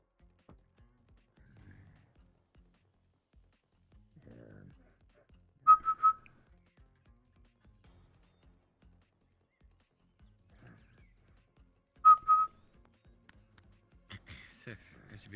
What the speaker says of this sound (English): you hear a whistle from behind.